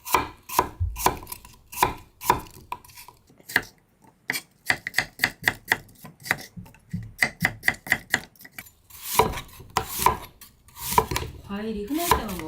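A knife chops apple with the skin left on into bite-size pieces for a fruit salad, giving sharp, irregular chopping knocks on a cutting board. Runs start spaced and then turn into quicker bursts, with light clinks of dishes.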